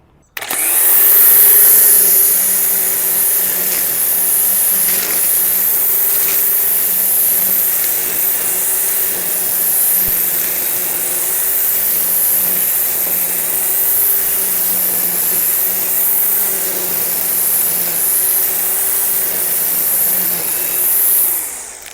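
A Forte EMK-1600 electric string trimmer cuts grass, its motor giving a loud, steady high-pitched whine with small pitch dips as the line bites, running close and continuously from start to finish without talk.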